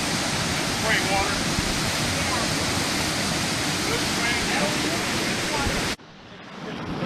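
Spring water at an old mill rushing and flowing in a steady, loud broadband wash for about six seconds, then cutting abruptly to a quieter background; a brief spoken word occurs.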